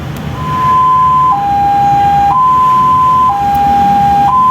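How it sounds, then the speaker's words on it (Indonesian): Ambulance siren in its slow high-low pattern used when the vehicle is empty and heading out to pick up a patient: two steady tones alternating about once a second, very loud and close, with nothing else heard. "Nada sirine ambulans ketika ingin melakukan penjemputan dengan nada yang perlahan atau lebih lambat ya"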